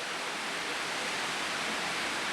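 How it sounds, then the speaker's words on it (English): A torrential rainstorm on Kauai makes a steady, dense hiss of heavy rain, constant and unbroken, with no voices. "Now that noise you're hearing in the background is not the ocean."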